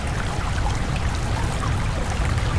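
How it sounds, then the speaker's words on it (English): Loud, steady underwater water noise from a video game's scuba diving scene, a dense continuous rushing and bubbling wash with no voices. "the water sound effects are loud"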